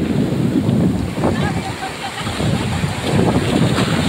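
Strong wind buffets the microphone at sea during traditional night fishing off Batangas City, a dense roaring rush with surf and water noise beneath, steady and loud throughout.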